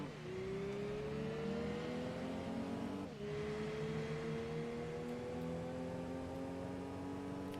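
Race cars in the video game Gran Turismo 2 hold a steady, high engine whine that climbs through the gears, with a brief dip at one shift, loud and continuous with no talk.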